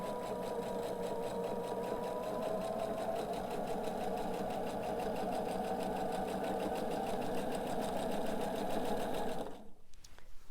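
A sewing machine stitches quilt fabric for a sample block with a steady, even mechanical hum and rapid needle patter that runs for nearly ten seconds before cutting off abruptly.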